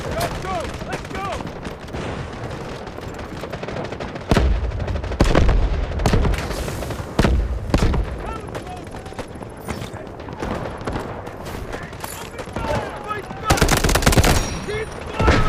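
Gunfire in the Delta Force video game: bursts of automatic weapon fire and heavy booming impacts in a chaotic battle, with shouted voices mixed in.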